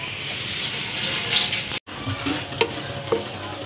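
Sliced onions frying in hot oil until golden for a Sindhi biryani, a steady close sizzle with occasional stirring scrapes and small pops, alone without talk.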